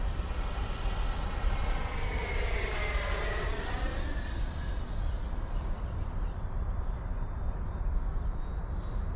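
E-flite Viper 90mm RC electric ducted fan jet making a full speed pass, a loud sustained high-pitched turbine-like whine and rushing roar that sweeps down in pitch as it flies by.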